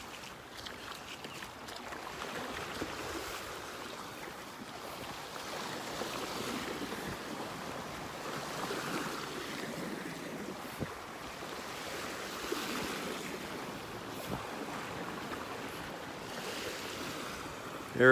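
Small, gentle ocean waves wash onto a beach in North Naples, Florida, a steady soft surf with some wind noise across the microphone, heard alone without talk.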